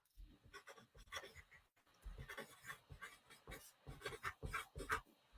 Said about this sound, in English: I'm going to write these down too.